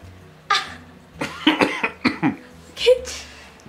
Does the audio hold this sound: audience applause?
no